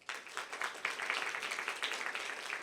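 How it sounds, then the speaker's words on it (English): A conference audience at the Hong Kong Laureate Forum life sciences session gives a dense, continuous round of applause for the presenters, steady throughout with no talking over it. "give a big round of applause to all our presenters"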